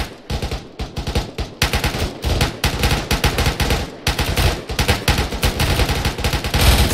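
Dense automatic gunfire rattles almost continuously in Arma on the Altis map, loud sustained bursts from several weapons layered with scattered single shots, close and without a break.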